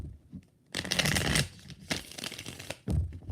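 Tarot cards are shuffled by hand in a few short, crisp riffling bursts separated by brief pauses, close and fairly quiet.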